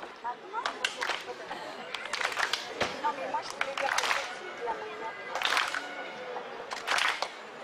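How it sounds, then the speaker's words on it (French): Audience clapping in rhythm at a public talk or protest meeting, heard as bursts of claps and hand noise under crowd murmur and scattered voices, fairly close and moderately loud. "Et je vous invite à suivre mon rythme d'applaudissements."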